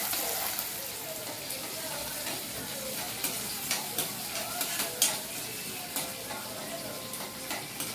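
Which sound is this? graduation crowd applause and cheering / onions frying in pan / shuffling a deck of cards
onions frying in pan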